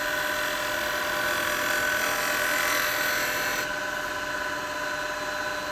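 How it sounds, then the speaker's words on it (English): Wood lathe turning a bowl foot with a spindle gouge, a steady high-pitched motor whine with a continuous cutting hiss, close and unbroken, the tone easing slightly near the end, no talk. "I'm going to use a spindle gouge for this"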